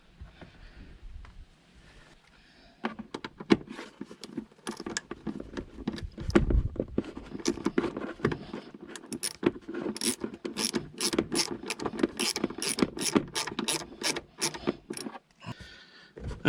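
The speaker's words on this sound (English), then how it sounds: "Get some screws in." Screws being driven into a panel inside a Volkswagen T4 campervan during a Chinese diesel heater install, with repeated close mechanical whirring, ratcheting and scraping bursts that run for several seconds at a time with short pauses between them.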